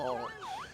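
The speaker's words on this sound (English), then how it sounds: "is the siren sounding for the end of the first period of play" A wavering electronic siren marking the end of a period at a pond hockey game rises and falls in pitch, clear and fairly loud, sounding alone for a moment.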